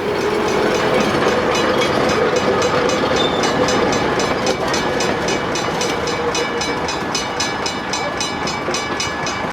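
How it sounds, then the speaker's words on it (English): An HO scale General Electric 25-ton switcher locomotive model runs with a loud, steady mechanical rumble and a fast, regular ticking clatter throughout. "The all-new HO N42 General Electric N-Cab 25-ton switcher."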